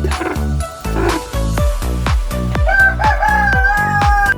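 Week-old native chickens cluck and peep in a rapid series of loud, close calls that overlap one another, with a rising, crow-like note near the end.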